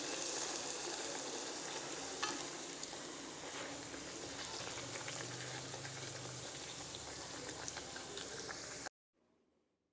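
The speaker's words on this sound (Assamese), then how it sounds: "এনেদৰে গোটেইখন ভাজি ল'ম মই লুচি" Luchi, puffed Indian flatbread, frying in hot oil, a steady close bubbling sizzle that holds for about nine seconds and then cuts off abruptly.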